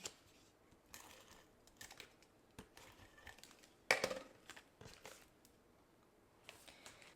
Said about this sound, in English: I'm bringing in my tape runner. And I'm putting it at the top and the bottom.